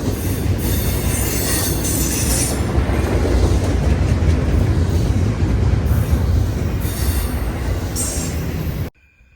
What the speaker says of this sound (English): Hear the choo-choo?